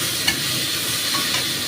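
Tomato goes into a pan of frying roasted cumin and ginger, and a loud, dense sizzle and hiss rises, with a couple of brief stirring knocks, close by.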